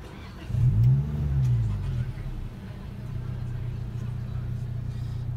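The supercharged engine of a Toyota Yaris GRMN hot hatch revs once, a short rising and falling blip, then settles to a steady idle hum heard from inside the car.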